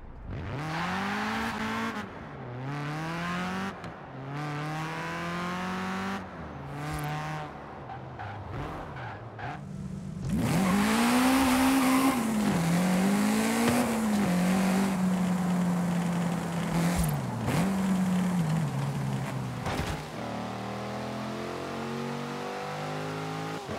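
Car engines in Forza Horizon 5 rev and accelerate through repeated gear-change sweeps, with short pauses between runs, then a louder sustained stretch of engine roar and tire noise, all close and without speech.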